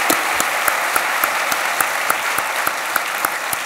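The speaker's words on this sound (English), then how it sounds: "Let's applaud the school for this great program that they have." A large audience at a live talk event with Arnold Schwarzenegger and Jamie Lee Curtis breaks into steady, loud applause that fills the hall evenly, with a few sharper claps standing out.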